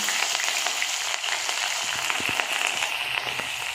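Green chillies crackle and sizzle steadily in hot cooking oil, a loud, close, continuous frying hiss dotted with small pops, heard alone with no talking.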